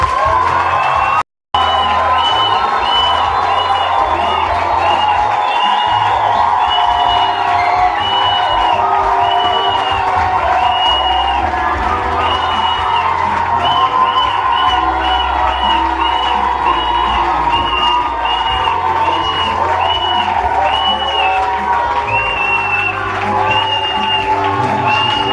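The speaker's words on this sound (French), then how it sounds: "J'aimerais que nous disions merci à Dieu par une acclamation puissante." A church congregation gives a powerful acclamation of thanks to God around midnight, a loud sustained roar of cheering, whooping and shouting voices with repeated high cries rising over the crowd, continuing unbroken after a brief dropout near the start.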